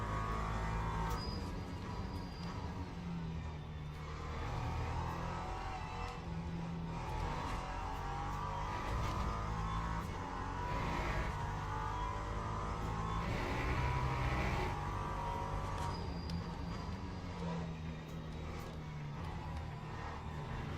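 Race cars roar steadily around a circuit in the Le Mans Ultimate sim, engines droning loud and continuous with gear shifts and a faster LMP1 prototype closing in from behind; no voices.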